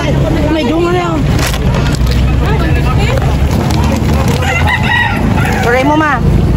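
Several roosters crow repeatedly over clucking chickens, loud and close, with people talking underneath.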